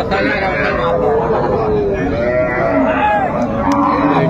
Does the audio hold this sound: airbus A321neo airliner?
no